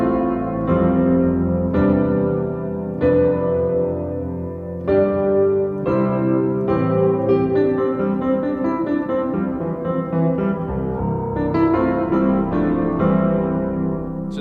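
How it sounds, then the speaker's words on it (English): Keyscape Duo Scoring Piano Celeste preset, an upright piano layered with celeste, playing slow worship chords and a melody with distant, heavily reverberant ringing notes and a bright bell-like shimmer on top. "This one is called Duo Scoring Piano Celeste, and so it's got an upright feel to it with this kind of celeste sound to it"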